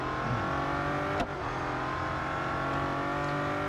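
Race car engine sound from the video game Real Racing 3, a steady, loud mechanical drone with a brief sharp transient about a second in, then continuing evenly with no talk.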